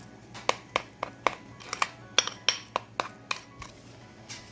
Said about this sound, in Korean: 고추장, 고춧가루를 이렇게 섞어줍니다